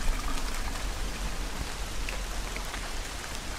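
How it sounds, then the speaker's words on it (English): Steady outdoor rain in Australia, a dense close hiss of drops pattering on surfaces, continuous and even with no voices. "Need to get out of this rain."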